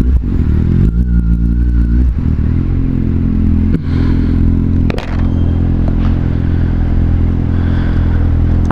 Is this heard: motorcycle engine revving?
yes